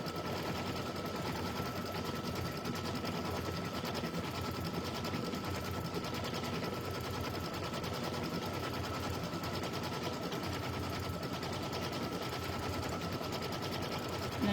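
Close up, an embroidery machine rapidly stitches a stuffed toy's nose at 400 speed, a fast steady mechanical chatter of needle strokes that runs without pause at a quiet, even level.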